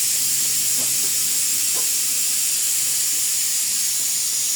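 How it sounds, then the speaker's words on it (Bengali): A pressure cooker with beef cooking inside gives off a steady, loud hiss of escaping steam that runs unbroken throughout, with a few faint knocks in the background. "ওদিকে প্রেসার কুকারে মাংস হচ্ছে, তো ওই জন্য একটু শব্দ হচ্ছে"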